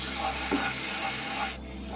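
Onion frying with a spoonful of ginger, garlic and green chili paste gives a brief, even sizzling hiss as it is stirred in the pan, with a slight drop in texture toward the end.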